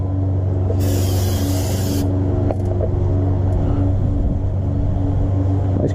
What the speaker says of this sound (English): I'm just going to wash it down with some brake clean on this here real quick.